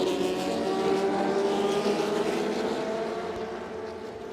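Historic Formula 2 race cars at Silverstone, including a March 782, form up before a rolling start. Several engines drone and rasp together loudly at low speed, then the combined roar gradually eases off toward the end.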